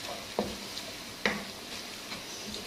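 Spices including dried coriander stirred in a hot pan of frying garlic and ginger for beef mughaz: a soft steady sizzle with a few scraping spoon knocks against the pan.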